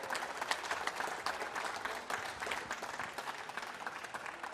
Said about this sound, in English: big rounds of applause one more time for Rochdale